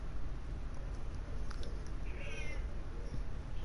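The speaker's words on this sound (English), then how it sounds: "Oh, there's a noisy cat at the door." In Final Fantasy XIV, a cat meows at the door, its faint, drawn-out meows coming through over a soft steady background.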